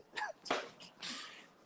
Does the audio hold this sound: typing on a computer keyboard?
no